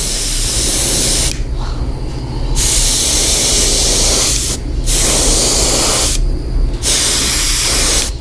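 Spray paint from a can hisses loudly and close up onto a bass fishing lure in several long bursts separated by short pauses, over a steady background whoosh.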